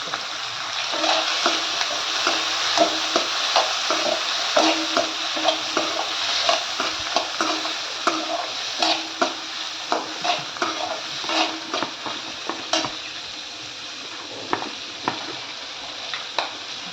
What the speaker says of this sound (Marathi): आता हरभरा डाळ टाकून चांगली परतून घ्यायची आपल्याला.